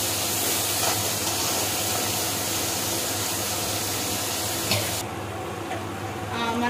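Chopped tomato and onions frying in a pan for semiya upma, a steady close sizzle that runs throughout with faint stirring scrapes.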